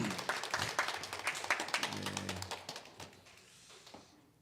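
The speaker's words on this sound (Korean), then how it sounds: "우리 박수로 한번 환영하겠습니다." A church congregation clapping in a rapid, dense patter that thins and fades toward the end, with a brief murmur of voices midway.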